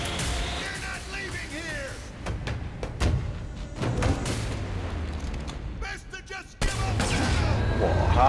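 Saints Row IV gunfire crackles in bursts and single shots with booming impacts, while people talk over the action.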